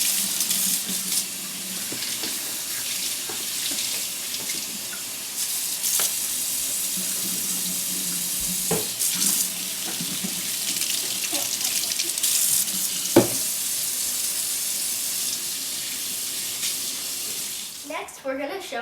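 Lentils are rinsed under running tap water, a steady loud gush of faucet flow with occasional knocks and clinks in the sink, and a voice briefly audible near the end.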